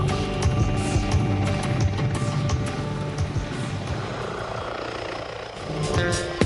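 A Rooivalk attack helicopter flies past with a loud, continuous roar of rotor and turbine that holds steady throughout and swells again near the end.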